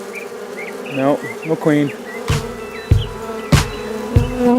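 A honeybee swarm after a hurricane buzzes steadily near and loud, a dense continuous drone with sharp thumps and knocks breaking through, while people talk briefly over it.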